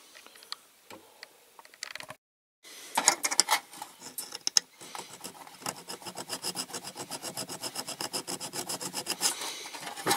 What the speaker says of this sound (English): I'm just filing these squares off the roof